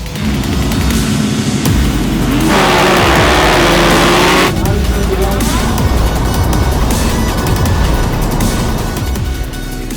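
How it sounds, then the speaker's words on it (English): An electric racing motorcycle roars past at high speed, its loud motor whine rising and falling, with a crowd or announcer murmuring underneath. "University of Michigan electric motorcycle"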